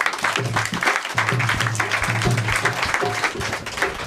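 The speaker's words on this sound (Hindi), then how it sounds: "ताली बजाएं" A church congregation claps together in thanks to God, a steady rhythmic clapping of many hands with a few louder beats, fairly close and continuous throughout.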